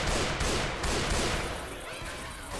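Rapid gunfire from a zombie shooter game, Left 4 Dead 2, a dense, loud burst of overlapping shots filling the whole moment with no pauses.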